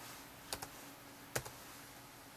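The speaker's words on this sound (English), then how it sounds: "just for fun, I'm going to type Dixon" Keys clicking on a computer keyboard at a public library search terminal, a short burst of typing in two quick clusters of taps with a final lone keystroke, quiet and close against a faint room hum.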